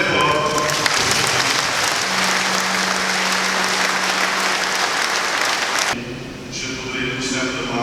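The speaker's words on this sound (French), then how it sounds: "Nous les applaudissons très fort." A crowd at a retirement celebration for Catholic school teachers in Thiès claps loudly and steadily for several seconds, close and dense, with a voice and a brief tone over it before the clapping thins out near the end.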